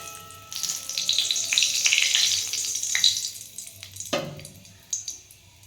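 Nigella seeds drop into hot mustard oil in a wok and crackle in a close, steady, bright sizzle, with a few sharper pops and spatters as it goes on and no talking.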